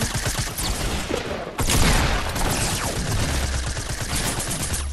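Rapid bursts of video game gunfire, dense fusillade and machine-gun fire, loud and continuous across the whole stretch with a sharp heavier burst midway.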